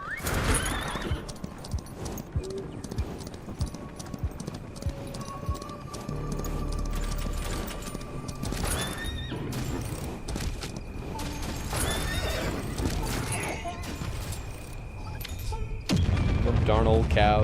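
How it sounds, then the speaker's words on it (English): Cows in the Helldivers 2 video game bellow and call as they are shot, mixed with booms and gunfire, with a voice talking intermittently over the game sounds. "You heard the cows just by shooting them."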